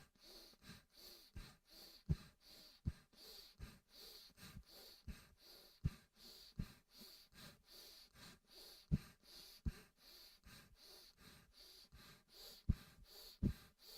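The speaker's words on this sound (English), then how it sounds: "inhale through right. Close the right, exhale through left with that little pump" Rhythmic breathing during alternate nostril Nadi Shodhana pranayama in a morning yoga session, with steady airy nasal inhales and exhales punctuated by short sharp pumping puffs, close and quiet, with no voices.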